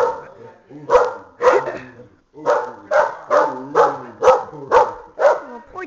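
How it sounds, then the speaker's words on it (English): A pet dog barks repeatedly and loudly at close range, about nine sharp barks in a fairly steady rhythm after a short whimpering start, with a brief pause partway through. "No barking."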